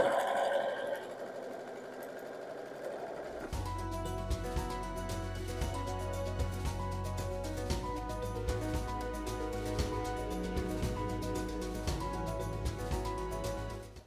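A sewing machine hums into steady rapid stitching on a quilt block after a quiet start, its motor whirring continuously and close by for over ten seconds.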